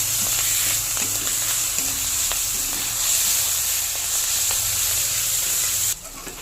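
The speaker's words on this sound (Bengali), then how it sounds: "দেবো 1 চামচ জিরার গুঁড়ো, 1 চামচ দেবো লাল লঙ্কার গুঁড়ো, দিয়ে ভালো করে মশলাটা কষাবো।" Turmeric, cumin powder and red chili powder sizzle as a spice paste is sautéed in hot oil for dhaba-style okra; a loud, steady, close frying hiss runs throughout and drops abruptly just before the end.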